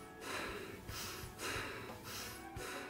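A voice imitates short, stressed breathing, giving a rhythmic series of quick, close, soft breaths with brief exhales, about four in a row, with no speech.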